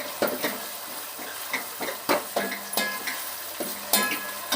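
Soya chunks masala sizzles in a pan in a dim home kitchen while a spoon stirs and scrapes against the metal in quick, rhythmic strokes. The sound is close and moderately loud, with no talking.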